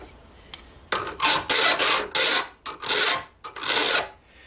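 A file scrapes back and forth across a metal hinge piece for medieval armour that is loose in a vise, loud close rasping strokes in a steady rhythm of about six passes.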